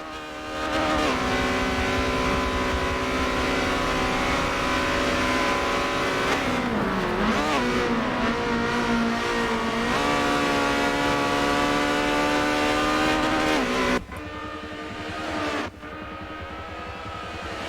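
Race cars in Forza Motorsport 7 scream through a spec racing series event, a loud sustained high-revving engine whine rising and dipping through gear changes, then a sudden drop to a lower drone.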